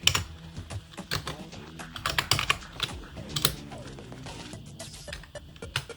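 Clicky typing on a computer keyboard during an Arch Linux install, with irregular bursts of close keystrokes and a few heavier key presses, with no talking.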